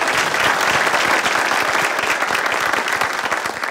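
A burst of loud, dense clapping from a crowd, sustained throughout and close by.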